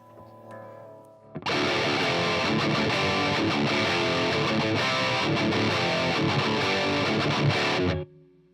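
After a few clean guitar notes, an electric guitar through a Horizon Devices Precision Drive overdrive pedal kicks in loud and saturated, a thick distorted wall of chords sustained for several seconds before cutting off.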